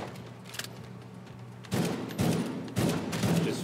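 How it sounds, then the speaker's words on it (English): DMR rifle fired from the hip in The Division 2, three loud, sharp bursts of shots following a quieter stretch of game ambience, each burst ringing out briefly before the next. "Just firing from the hip, basically."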